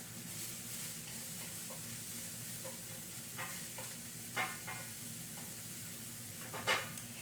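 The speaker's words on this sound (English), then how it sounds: "Let me add in my stems now and give that a stir." Onions and Swiss chard stems sizzling in a pan, a quiet steady frying hiss broken by several short scraping stirs, two of them louder near the end.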